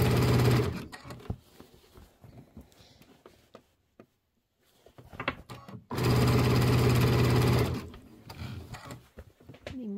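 A sewing machine stitches the edge of a quilted nativity pillow in two loud, steady whirring runs, stopping with a quiet pause between them and lighter handling sounds around the fabric.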